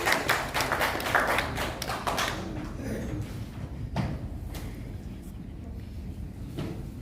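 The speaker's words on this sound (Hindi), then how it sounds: "प्लीज जोरदार तालियां विनय जी के लिए।" An audience claps for a driver honoured at an InDrive award ceremony in India, starting as a burst of loud, dense applause that thins into scattered claps and fades out.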